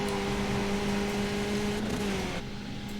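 Skip Barber race car engine at full throttle on the Zandvoort circuit in iRacing, a steady high-pitched drone holding one pitch, then dipping slightly near the end, loud and close with no talk.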